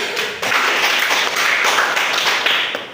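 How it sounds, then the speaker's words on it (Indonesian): A classroom group claps for a student presentation, a dense, close patter of many hands lasting a few seconds. "Tepuk tangan untuk kelompok 1."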